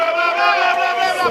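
A loud crowd cheers and shouts continuously in a short burst at an outdoor strongman competition, the 2017 Elva stage of an Estonian strongman series.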